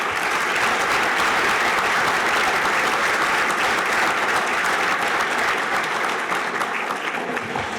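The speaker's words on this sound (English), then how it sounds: "I don't think that the evening would be complete without one more round of applause for Rogers Pharmacy" At a 2019 MWSU Athletics Hall of Fame ceremony, an audience applauds for Rogers Pharmacy in a dense, continuous wash of clapping that stays loud and steady for several seconds.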